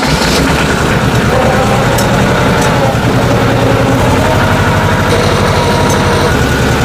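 A market garden tractor or bed-shaping machine runs in low first gear while moving slowly down a growing bed, its engine a loud, close, steady rumble that holds throughout.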